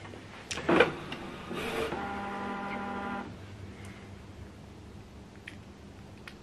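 A Canon PIXMA TS3452 inkjet printer switching off clicks and whirs mechanically, with a buzzing motor tone for about a second before settling into quiet.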